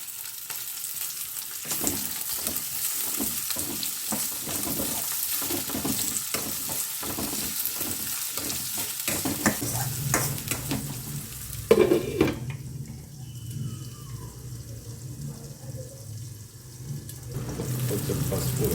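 A pan sizzles steadily through rhythmic stirring scrapes, then the frying turns softer and more muffled before rising again.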